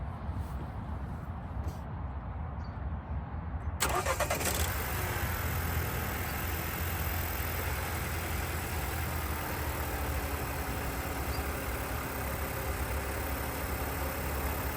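A Mercedes A180 engine with about 40,000 miles runs at cold-start idle, a steady mid-low hum that sharpens into a brighter, busier tone partway through and then settles into an even drone.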